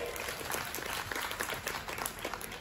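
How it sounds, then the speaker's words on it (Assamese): A crowd at a Bohag Bihu festival stage applauds a bihu dance troupe, loud sustained clapping in a dense, even wash from a large outdoor audience. "এটি হাত চাপৰি জোৰেৰে"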